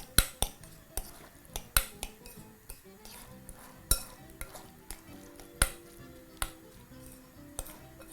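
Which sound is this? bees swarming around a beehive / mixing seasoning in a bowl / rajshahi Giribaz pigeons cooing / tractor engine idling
mixing seasoning in a bowl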